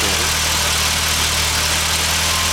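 A vehicle engine idles at a raised, steady speed, a continuous loud low rumble with constant vibration and no break, close by with no talking.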